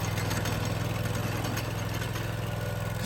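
A small walk-behind trencher used for burying conduit runs steadily nearby, its engine a continuous mid-pitched drone with a low rumble and no breaks or voices.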